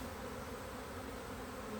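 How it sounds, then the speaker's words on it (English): Dense, steady buzzing of a honeybee swarm close by, shaken from a tree branch, a continuous droning hum with no pauses. "When I shake the branch, the bees fly in a more frantic pattern"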